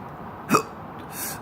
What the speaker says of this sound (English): these hiccups is killing me